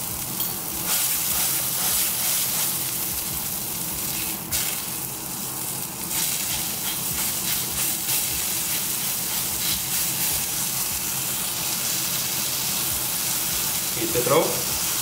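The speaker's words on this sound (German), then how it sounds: "Jetzt eine andere Pfanne, gebe ihnen Kleckser Öl drauf. Dann brate ich ein Patty an." A beef sucuk patty fries in a splash of oil in a pan, giving a steady, loud, close sizzle that runs unbroken throughout, with a brief clatter near the end.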